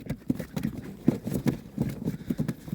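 Goats' hooves trot and clatter in an uneven run of soft, close footfalls, with no voices.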